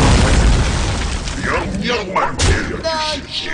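Holy Nova spell from the Hearthstone card game going off as a deep booming burst with crackling, shimmering magical effects, loud and up close over game sounds.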